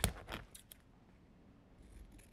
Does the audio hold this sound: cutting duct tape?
yes